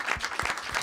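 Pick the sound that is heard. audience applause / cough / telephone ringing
audience applause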